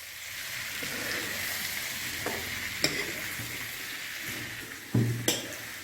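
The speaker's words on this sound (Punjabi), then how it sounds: "ਹਿਲਾ ਕੇ ਇਹਨਾਂ ਨੂੰ ਵੀ ਭੁੰਨ ਲੈਣਾ" Ingredients freshly picked from a home plant being stirred and roasted in a hot pan, with a steady close sizzle and occasional sharp scrapes and clinks of the spoon against the pan.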